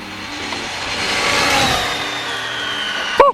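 An Arrma Felony 6s BLX brushless RC car at full throttle, a loud high electric whine that swells as it speeds past nearby, then ends with a sharp clunk.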